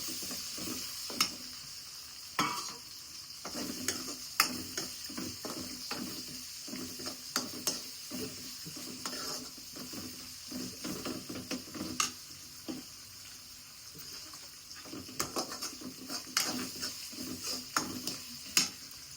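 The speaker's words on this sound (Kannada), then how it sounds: "ಬೆಳ್ಳುಳ್ಳಿ ಹಾಕ್ತಾ ಇದ್ದೀನಿ ಶುಂಠಿ ಹಾಕ್ತಾ ಇದ್ದೀನಿ ಇದೆರಡನ್ನೂ ಫ್ರೈ ಮಾಡ್ತಾ ಇದ್ದೀನಿ" Garlic and ginger fry in a pan for a chicken gravy, a steady sizzle running throughout with repeated scraping stirs and light clinks of a utensil against the pan, no voice.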